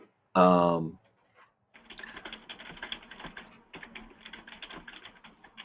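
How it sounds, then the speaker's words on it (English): Rapid keyboard typing clicks in a steady patter, fairly close, after a brief burst of sound at the start. "I hear somebody typing."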